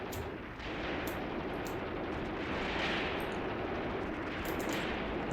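Dense, continuous battlefield gunfire in Graviteam Tactics, set on the Luga Line near Peleshi, with rifle and machine-gun bursts and distant artillery blending into a steady roar, loud and unbroken throughout.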